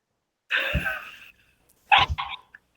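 A person makes two harsh, throaty coughing or sneezing bursts, the first drawn out and wheezy, the second shorter and choppier, close up and otherwise in near silence.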